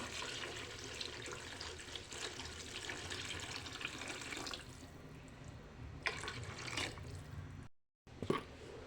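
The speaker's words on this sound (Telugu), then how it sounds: "అలానే కొంచెం వాటర్ యాడ్ చేసుకుందాం" Water pours in a steady broad splashing stream into a cooking pot of tamarind juice for sambar, stops briefly, then resumes, ending in a short clink.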